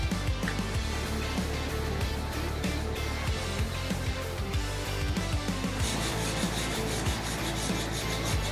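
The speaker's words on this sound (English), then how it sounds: "Remove excess carbon fiber." Steady rasping of a file scraping across carbon fiber, removing excess material, repeated strokes continuing throughout with a faint mechanical hum underneath.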